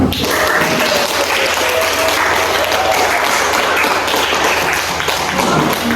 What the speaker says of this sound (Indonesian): tepuk semangatnya